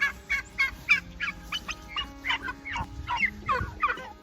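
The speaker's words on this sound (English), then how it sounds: "The turkeys are getting big." Several backyard turkeys gobble repeatedly, a quick series of rattling, warbling calls overlapping from nearby birds in a rhythmic chorus, fairly close and moderately loud.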